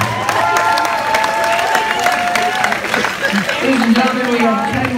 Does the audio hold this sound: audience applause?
yes